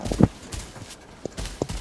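Horse hooves clip-clop in the shooter game Arena Breakout, a handful of sparse, distinct hoof strikes spread across under two seconds at moderate distance.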